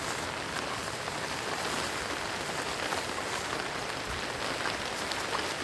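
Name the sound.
light rain falling near Akeri waterfall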